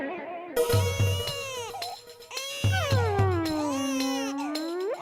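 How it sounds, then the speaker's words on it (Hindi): A baby in a Taarak Mehta Ka Ooltah Chashma household cries in loud, wailing bursts with falling, sobbing pitch contours, two long cries separated by a short gasp, heard close and alone. "किसके घर पे ये बच्चा रो रहा है?"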